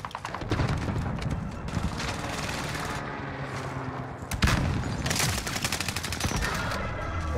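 Video game gunfire from an Owen gun build during a gunfight, with bursts of rapid shots and a sharp loud crack near the middle followed by further dense firing.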